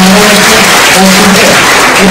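An audience at a speech by Supriya Sule breaks into loud, dense applause that fills the room, with murmuring voices mixed into the clapping.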